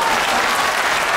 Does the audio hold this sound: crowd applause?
yes